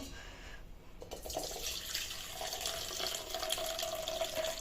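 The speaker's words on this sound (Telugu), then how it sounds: "పప్పు ఉడికింది ఇప్పుడు ఈ నీళ్లు వంపేసుకొని" Cooking water poured off a pot of boiled dal, starting softly and swelling into a steady, close stream of running liquid that keeps flowing to the end, with no voices over it.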